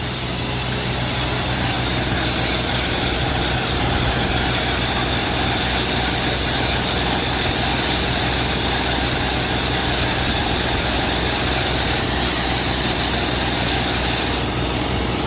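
A tractor engine drones and rattles steadily throughout, loud and close, with a constant low hum and no voices.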